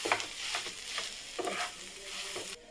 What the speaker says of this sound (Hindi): और यहाँ पर हमने 2 उबला हुआ आलू डाल दिए, इन सबको मिला देंगे।